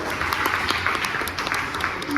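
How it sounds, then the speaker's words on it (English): Audience applause, dense steady clapping from a room full of people, moderately loud and continuous throughout. "Let's give her a big round of applause."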